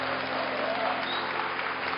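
Steady applause from a large church congregation indoors, welcoming a pastor, fills the whole moment, dense and continuous without a break.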